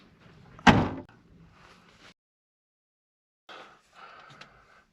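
A 1968 Oldsmobile Cutlass door swings shut with one solid, close thump, followed by faint rustling and a few soft knocks after a pause.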